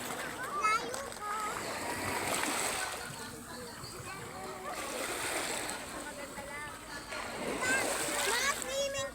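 Sea waves splashing around swimmers at a Batangas beach, continuous watery wash and surges rising and falling, with children and adults talking and calling out over it.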